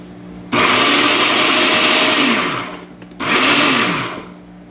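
A food processor chopping Japanese garlic runs in two short bursts with a pause between them, each a loud whirring motor whine that winds down as it stops. No one talks over it.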